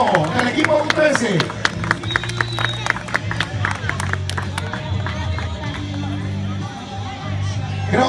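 Applause for a left-back of a U13 football team at a championship celebration, steady crowd clapping with scattered cheers and chatter running throughout, fairly close and loud.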